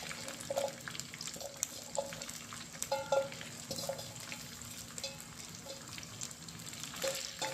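Ivy gourd (dondakaya) ginger fry being stirred in a pan, with soft sizzling and scraping and intermittent spoon clinks against the pan, faint and steady without talk.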